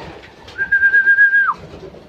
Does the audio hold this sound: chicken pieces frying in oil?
no